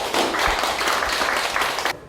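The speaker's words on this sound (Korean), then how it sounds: "박수로 환영하겠습니다." Brief burst of audience applause welcoming a church pastor at a pilgrimage guide training graduation ceremony, a dense clapping roar lasting about two seconds before cutting off.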